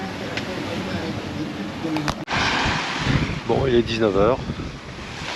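Wind buffets a microphone at sea with a steady rushing roar, someone speaking briefly over it.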